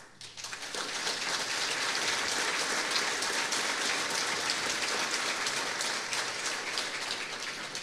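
Dense, continuous applause from a concert audience in Mercedes, Uruguay, a hissing rain-like wash of many hands clapping that swells quickly and holds steady for several seconds.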